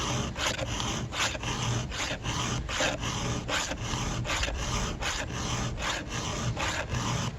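A round file rasps across the teeth of a chainsaw chain in quick, even strokes, about two per second, each a close, dry scrape with no talking.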